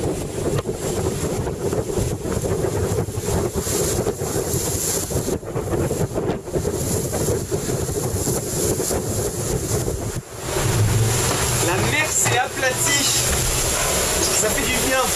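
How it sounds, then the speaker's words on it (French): Sailboat sliding over long, smooth Pacific swell in light wind of about 15 knots: a steady wash of water and hull noise with gusty wind buffeting the microphone throughout, close and continuous, with no talk. "Toujours de la houle, mais c'est la longue houle où on glisse dessus avec pas trop de vent, il y a 15 nœuds."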